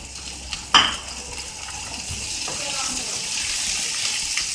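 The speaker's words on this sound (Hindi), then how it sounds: "तेल हल्का सा गर्म हो गया, अभी मैं इसमें शिमला मिर्च डाल दूँगी।" Capsicum tipped into lightly heated oil in a pan on a medium flame while cooking vegetable fried rice: a brief clatter, then a steady soft sizzle that carries on to the end.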